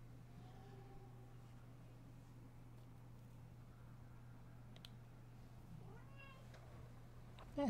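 A cat meows faintly a few times, short drawn-out calls near the start and again toward the end, over a low steady electrical hum in a quiet room.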